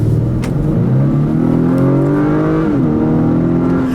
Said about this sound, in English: I do like you get a good bit of induction note here with this 2-liter turbo motor